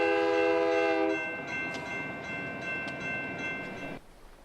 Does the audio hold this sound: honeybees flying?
no